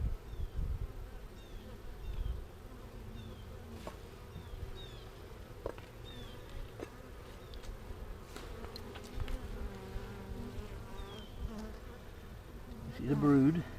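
Honey bees buzz steadily in an open hive with brood, nectar and pollen, a dense, continuous drone up close, with individual insects flying past now and then.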